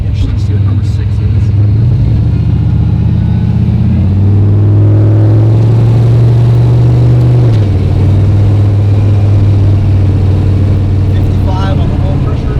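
A turbocharged car engine in the Phoenix on its first drive, heard from inside as a loud, close, steady drone that rises in pitch midway and holds before settling back, with voices talking over it.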